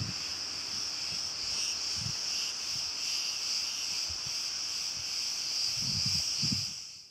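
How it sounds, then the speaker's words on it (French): Cicadas in mainland Greece drone in a steady, loud, continuous buzz with no break, while faint low rustling and thumps come and go underneath. "les cigales qui ne vous quittent pas de mai jusqu'à septembre"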